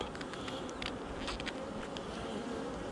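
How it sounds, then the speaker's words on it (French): Honey bees buzz around a swarm box in a dense, continuous hum, with individual bees whizzing close past in brief louder passes. "Allez, allez, barrez-vous les abeilles, voilà."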